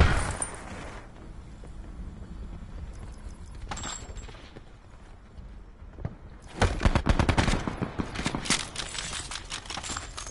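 Pistol gunfire in a video game comes as rapid, repeated sharp cracks, loud and close, in dense bursts that grow busier in the later half, with no speech.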